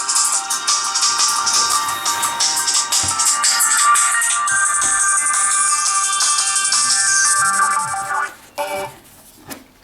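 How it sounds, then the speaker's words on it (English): Drum and bass track playing from an ASUS PadFone 2 speaker: thin, treble-heavy music with a busy beat, loud and steady, then it breaks off near the end into brief handling noises. "Let's try this drum and bass."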